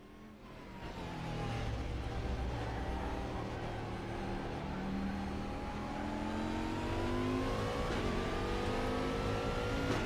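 A Koenigsegg engine in the Raceroom racing game revs and climbs through the gears with a rising, sustained whine and roar, moderately loud and continuous for ten seconds.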